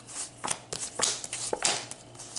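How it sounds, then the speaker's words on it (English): Tarot cards being shuffled by hand, a series of quick papery riffles and soft slaps, several crisp bursts spaced irregularly over a couple of seconds at close range. "So let's give it one more shuffle."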